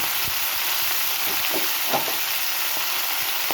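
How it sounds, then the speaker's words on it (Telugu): Chopped spinach goes into a sizzling tempering in a pan for a spinach and milk curry, giving a loud, steady, close frying hiss with faint scrapes of stirring. "పోపు వేగిపోయింది. దాంట్లో మనం కట్ చేసి పెట్టుకున్న పాలకూర వేసేసుకుందాం."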